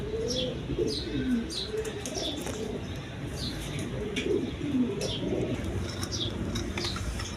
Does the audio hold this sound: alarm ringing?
no